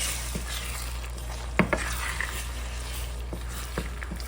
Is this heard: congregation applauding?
no